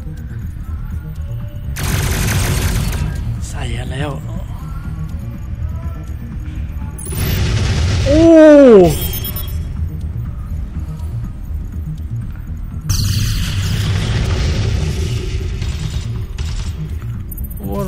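Cannon bombardment in the strategy video game Endless Space 2: loud bursts of artillery fire and booms come in several waves over a steady battle rumble, with a voice talking briefly in between.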